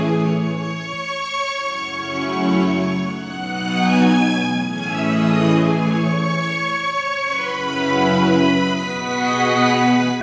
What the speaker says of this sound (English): and then the strings, which are one of my favourite parts of this track